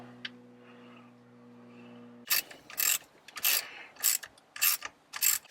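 A ratchet tightens bolts on a Jeep Gladiator switch panel: after a low hum, about eight quick clicking bursts of the pawl come in an uneven rhythm, close and clear with no talk.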